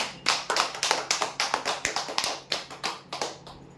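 Clapping for a prize winner at a lucky draw: a small group of hands beats out a brisk, fairly rhythmic run of crisp claps, close and distinct rather than a dense roar.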